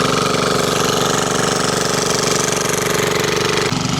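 A motor-driven irrigation water pump runs in a corn field, a loud, close, steady chugging throb with a rapid regular pulse and a slight shift in tone near the end.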